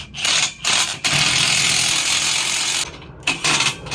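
Power tool tightening bolts during assembly of a Black Widow motorcycle rack, a loud close whirring run broken by a few short pauses, heard alone without talk.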